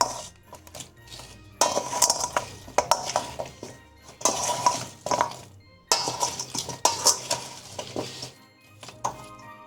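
A spoon stirring beets with sugar and salt for traditional barszcz, metal clinking and scraping against a bowl in repeated bursts with short pauses between them, close and fairly quiet.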